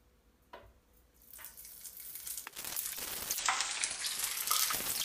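Hot cooking oil poured over a pork leg for crispy pata, starting quiet and swelling into loud, dense, continuous sizzling and crackling spatter that builds toward the end.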